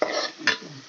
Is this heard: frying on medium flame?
yes